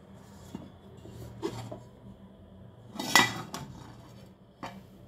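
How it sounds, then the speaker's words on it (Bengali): A metal lid lifted off a pot of steeped Shahi tea, a few soft clinks and scrapes of cookware, with one sharper metallic clatter in the middle, heard close and alone at low level. "এখন ঢাকনাটা খুলে দেখব।"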